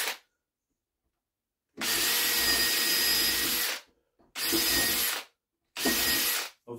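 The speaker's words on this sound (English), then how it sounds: "I'm just going to do two pilot holes." A cordless drill bores pilot holes into wood in three separate bursts: one long run of about two seconds, then two shorter runs, with quiet pauses between them. The motor whine is loud and close.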